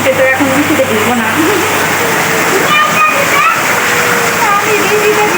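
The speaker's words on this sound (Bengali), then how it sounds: "আবারও বৃষ্টি পড়তেছে" Steady rain falls outdoors as a continuous broadband wash of patter and splashing, fairly loud and close, while voices talk over it.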